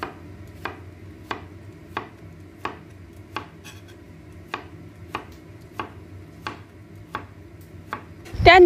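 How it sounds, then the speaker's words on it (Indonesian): A knife chopping smashed cucumber into small pieces on a cutting board, about a dozen crisp, evenly spaced cuts at a steady unhurried pace, close and fairly quiet, ending in a louder clatter. "Setelah dicuci, geprek dan potong kecil-kecil."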